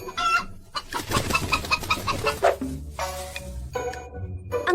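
A rooster and chickens cluck and squawk close by in a busy, overlapping flurry of short calls, fairly loud throughout.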